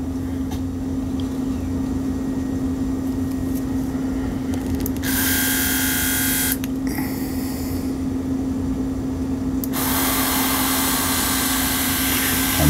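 An airbrush with its nozzle removed sprays paint in short hissing bursts, a sharp airy rush that starts and stops twice over a constant low compressor hum, close and loud, with no talking.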